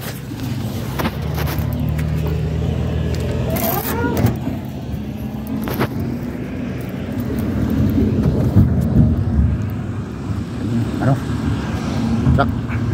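A Caterpillar mining truck that has lost power runs with a steady low engine rumble, loud and continuous throughout, while people talk over it.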